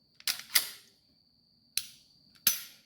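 A Glock 26 Gen 3 pistol is dry-fired with an empty chamber, giving three sharp, close mechanical clicks. The first is a quick double snap, then two single clicks follow after pauses, each cutting off quickly into quiet.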